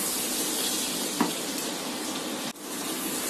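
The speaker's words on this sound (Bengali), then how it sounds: "বাটার আর রসুনটা একটু ভেজে নিব।" Butter and chopped garlic sizzle in a pan, a steady close frying hiss that runs throughout with a brief clink near the middle and a small knock later.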